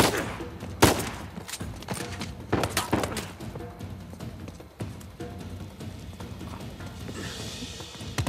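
Gunfire in Uncharted 4, with several sharp shots and thuds over a busy game soundscape of movement and mechanical clatter. A voice briefly speaks partway through.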